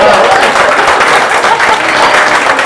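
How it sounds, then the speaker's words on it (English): A large crowd at a Donald Trump rally in Keene, New Hampshire applauds loudly and continuously, a dense wash of clapping throughout. "Let's give the red, white, and blue a round of applause."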